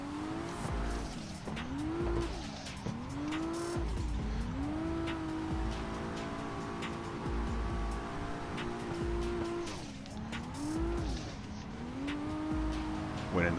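A car holding consistent drifts through linked corners, engine revving and dropping in repeated swells while tires squeal steadily, heard continuously at moderate distance with no talk.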